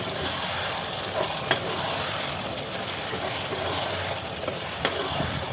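Chicken liver fry sizzles steadily in a pan while being stirred, a close, even hiss with a couple of soft scraping knocks from the spoon, no voices over it.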